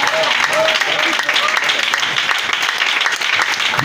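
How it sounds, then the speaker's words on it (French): A church congregation applauds the Holy Spirit during a French-language worship service, a dense, steady wash of clapping and cheering that fills the room, with voices mixed into the noise. "Est-ce que tu peux acclamer Saint-Esprit?"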